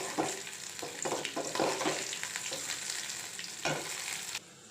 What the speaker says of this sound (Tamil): இப்போ நம்ம எடுத்து வச்சுருக்க இந்த வடகம் அதை போட போகிறோம். போட்டு நல்லா பொரியட்டும்.